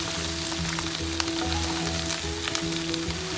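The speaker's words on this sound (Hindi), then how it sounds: "यहाँ वेजिटेबल्स हमारी हो गई हैं, 4 से 5 मिनट तकरीबन मैंने इनको फ्राई किया है" Mixed vegetables stir-frying in a hot pan for chicken chow mein, giving a loud continuous sizzle with crackling pops throughout, close up and with no talking.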